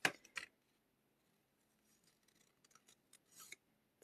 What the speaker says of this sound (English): it's a little boring watching somebody fussy cut